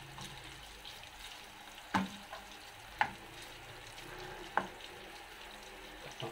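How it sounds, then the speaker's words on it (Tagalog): Pork belly frying in a pan, a quiet steady sizzle with three or four distinct clacks of stirring or tossing spaced a second or so apart, no talk. "Papupulahin ko ng konti yung ating pork belly"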